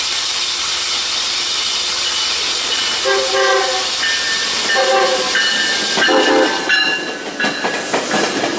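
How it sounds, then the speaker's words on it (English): A passing Amtrak train sounds its horn from a cab car at a rail safety event, with a steady rumble and hiss under several short sustained horn blasts in the middle and later part. "Especially cab cars sounding the horn."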